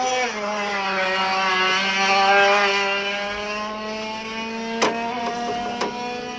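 Specially prepared racing kart driven by Ayrton Senna, its small engine holding a steady, buzzing, harmonic-rich drone that swells slightly mid-run, with a couple of sharp clicks near the end.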